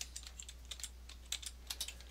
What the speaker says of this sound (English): So I'm going to try typing the same name.